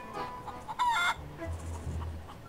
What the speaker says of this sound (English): chickens on the roof